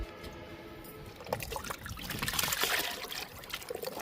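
Kitchen-waste liquid fertilizer poured onto a potted plant, a soft trickling and dribbling of liquid that grows fuller and splashier midway, close by with no talk.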